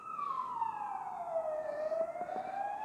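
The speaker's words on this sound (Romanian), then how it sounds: "o să trece o salvare" Ambulance siren passing outside an apartment, one long wail sliding steadily down in pitch as it moves by at a moderate distance, with no speech over it.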